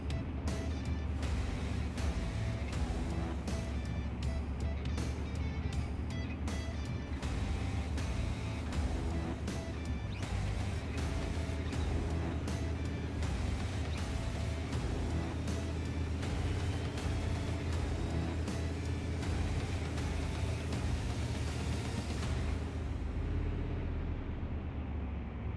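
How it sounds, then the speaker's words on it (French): Military vehicle driving in the video game Arma 3, a steady loud engine drone with constant rumble and some clattering ticks, heard alone for the whole stretch before cutting off near the end. "Véhicule"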